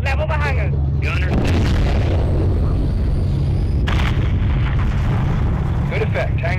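Missile strike leveling a hangar in the video game Call of Duty: Modern Warfare III: loud, sustained rumbling blast and roaring debris under radio chatter and voices, with a continuous heavy low-end roar throughout.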